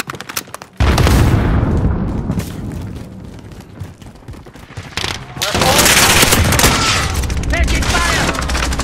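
Gunfire in Call of Duty Modern Warfare: a sudden loud burst of rapid automatic fire with booming impacts, a quieter stretch, then another long sustained volley of shots, close and loud, with voices partly mixed in.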